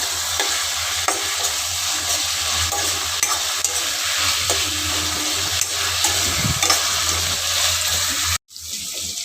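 Onions, curry leaves and mint sizzle and fry steadily in a pan with occasional stirring scrapes, close and continuous until it cuts off abruptly near the end.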